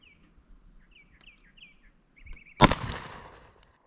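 A single sharp, loud pistol shot from a Glock 19 Gen5 at an outdoor range, cracking close by and ringing out briefly, with birds chirping quietly in the background beforehand.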